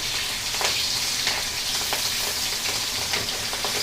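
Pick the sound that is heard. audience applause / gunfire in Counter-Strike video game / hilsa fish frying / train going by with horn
hilsa fish frying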